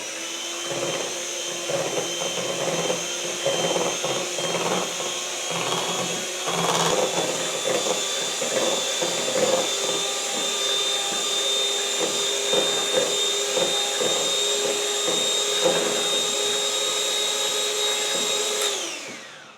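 A steady, whining electric mixer whirs through cake batter after two eggs go in, running continuously at a high-pitched drone for about twenty seconds before cutting off.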